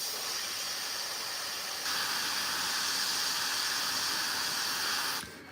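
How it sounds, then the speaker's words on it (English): An airbrush sprays paint onto a Warhammer miniature with a steady, close hiss that grows a little louder partway through and then cuts off near the end. "So now I'm painting with the airbrush because I really wanted to know if it was possible."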